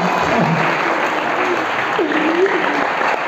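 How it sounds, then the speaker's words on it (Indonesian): A seminar audience at a motivational talk claps in a dense, continuous round of applause, with a voice faintly audible beneath the clapping. "Tepuk tangan untuk kita bersama."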